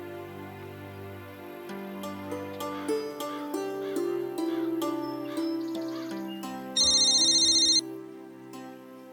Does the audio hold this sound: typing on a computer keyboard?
no